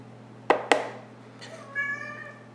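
A pet cat gives a drawn-out meow near a feeding spot at home, following two sharp clacks and set against a steady low hum.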